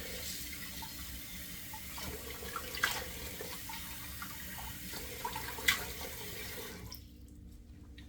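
Steady running water from a tap splashes into a basin, with a couple of brief sharper splashes before the flow stops near the end.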